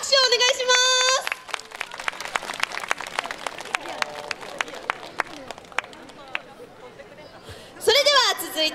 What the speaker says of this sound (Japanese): もう一度拍手をお願いします。